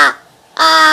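Two loud, close caws from Sambo, a big black crow, with a short silent gap between the calls.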